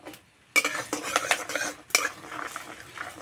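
Raisins stirred in ghee in a pan, with a spoon scraping and clinking against the metal in two clear bursts, close and fairly loud, with little audible sizzle.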